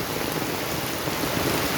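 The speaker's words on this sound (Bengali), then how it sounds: "প্রচণ্ড জোর বৃষ্টি হচ্ছে।" A loud, unbroken downpour of heavy rain fills the air with an even, rushing hiss.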